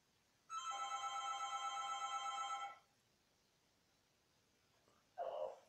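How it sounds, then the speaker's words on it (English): A landline telephone rings indoors with one loud, steady electronic ring lasting about two seconds, followed by quiet and the start of another ring. "I'll just let it finish ringing first before we go on."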